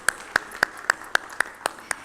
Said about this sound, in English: Can we have a huge round of applause for all of them